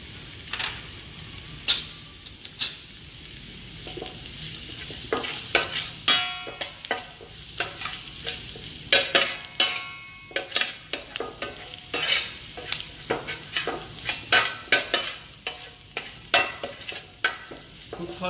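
Masala with coriander powder and turmeric frying in a pan, with steady sizzle beneath irregular scraping clatters from a utensil stirring through it, close and continuous.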